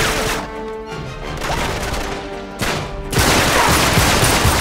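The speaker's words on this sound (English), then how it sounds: "After heal up, relentlessly start shooting." Dense gunfire in the video game Uncharted 3: Drake's Deception rattles in loud, continuous bursts, with a brief lull before the shooting swells again.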